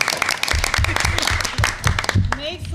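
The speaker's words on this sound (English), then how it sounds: "Should we clap?" An audience at a board of directors meeting claps briefly for a few seconds, a scattered round of applause under and between voices.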